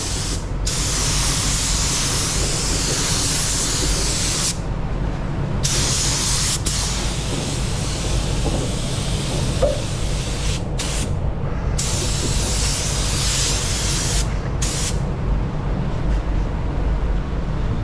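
Paint spray gun hissing steadily while refinishing the hood of a Ford Bronco in Area 51 color, broad continuous spray with a few brief pauses between passes, close and loud with no talking.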